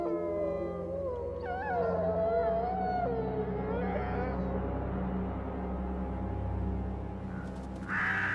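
A wolf pack howling at night in Yellowstone after a bison kill, several long wavering howls rising and overlapping at a distance over a low steady rumble, fading toward the end.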